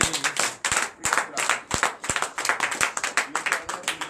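Church congregation at a night prayer service clapping in acclamation, loud, close, rapid claps in an irregular rhythm with shouts and voices rising among them.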